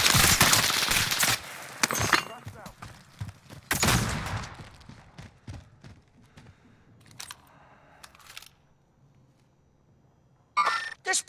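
Gunfire in Call of Duty: Modern Warfare, with loud rapid bursts of automatic shots up front, then scattered single cracks and clicks that thin out, a quiet gap and a short final burst.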